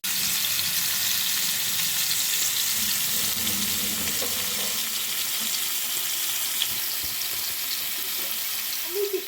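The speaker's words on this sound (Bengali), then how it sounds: "এবার এইভাবে চামচের সাহায্যে চিকেনের গায়ে ওই ভাজা তেলটা বারবার করে দিয়ে দিতে হবে, তাহলে অনেকটা ভেতরে ফ্রাই হয়ে যাবে।" Chicken sizzling in hot oil on a tawa for street-style fry, a steady, broad hiss throughout with faint scraping as oil is spooned over the pieces.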